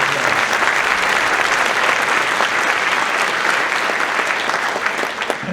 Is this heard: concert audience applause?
yes